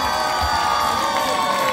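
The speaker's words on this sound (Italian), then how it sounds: "Grande applauso" Crowd cheering and applauding for an under-15 youth football squad at a team presentation, a steady wash of claps and shouts held throughout the brief moment.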